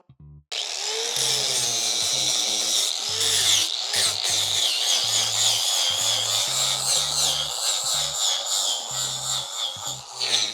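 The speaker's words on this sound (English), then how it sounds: "Grab my angle grinder with a sanding disc on it." An angle grinder whirs steadily with a sanding disc, its pitch dipping and rising in bursts as it bites into the surface, close and continuous.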